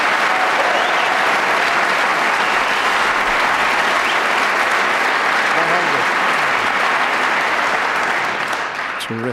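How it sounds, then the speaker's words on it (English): A snooker crowd at the 2006 UK Championship final applauds a century break by Peter Ebdon against Stephen Hendry. The clapping is loud and sustained throughout, with a commentator's voice faintly beneath it. "Terrific round of applause."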